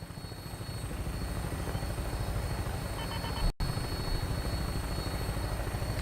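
A helicopter in Fallout 4 flies over the Commonwealth, its rotor throbbing as a steady, loud drone that carries on without a break apart from one brief dropout, with no talk over it.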